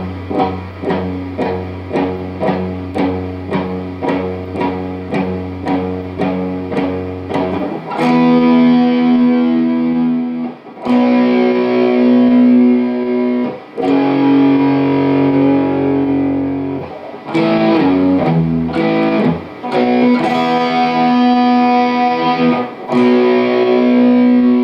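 A distorted electric guitar slowly plays the introduction riff of a song: a string of evenly palm-muted chugs, then long sustained power chords with brief pauses between them.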